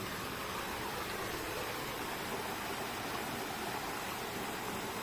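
A small river runs through a forest, a steady, even rush of flowing water that fills the whole stretch without change, with no voices over it.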